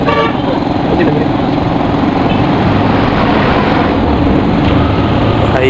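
Motorcycle engine running after its battery wires were reconnected, a loud, steady buzzing hum close by that holds throughout with no pauses.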